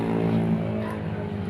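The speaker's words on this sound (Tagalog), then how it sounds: "Tanging motorsiklo lamang ang napakaingay na yun." A loud motorcycle on a quiet stretch of road in Jelasan gives a steady, droning engine tone that holds close and strong throughout, with no one talking.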